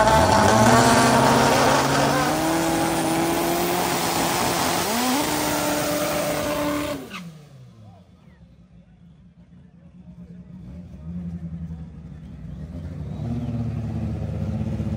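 Drag racing car at a Velopark drag event, a four-second class machine, revs loudly and accelerates with a rising engine roar for about seven seconds, then cuts away to quieter distant engine noise that builds again.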